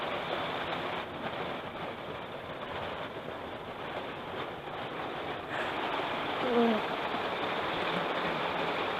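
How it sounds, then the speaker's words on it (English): Heavy rain pours steadily on a TrailManor camper with water running off the window, a dense even hiss that fills the whole clip with no voices, heard from inside. "Sounds like it's just pouring. I mean, it's doing a good job of raining"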